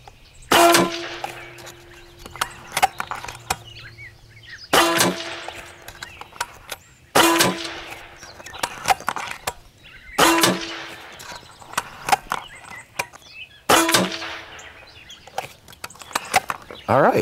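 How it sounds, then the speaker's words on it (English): Benjamin Bulldog .357 big-bore airgun firing a group at targets: five sharp, loud reports spaced a few seconds apart, each followed by ringing metallic clangs and clicks of handling between shots. "let me load up the magazine and shoot our first group"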